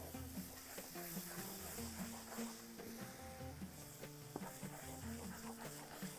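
A Madrooba mixture is stirred steadily in a cooking pot with a soft, continuous scraping and light sizzle, heard beneath louder background music.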